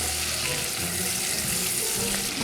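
Onions fry in olive oil in a pan, making a steady, dense sizzle that stays close and fairly loud and continues without a break.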